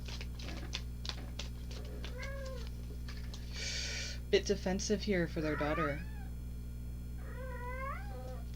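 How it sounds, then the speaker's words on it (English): A cat in heat yowls and meows in several drawn-out, wavering calls at moderate distance, rising over a quiet steady hum, with a person talking briefly before the cries. "I'm sorry about my cat. She's in heat right now."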